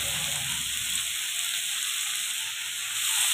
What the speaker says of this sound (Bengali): হালকা একটু মাছটা ভাজা হতেই শাক কুচিগুলোকে দিয়ে দিব।